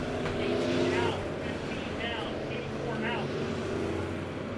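Race cars circle the track at Monett Motor Speedway, their engines a steady, loud roar from a distance that holds unbroken for the whole stretch, with a faint public-address voice underneath.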